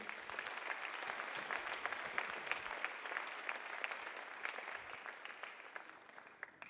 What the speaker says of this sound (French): acclamons le Seigneur pour ces merveilleuses personnes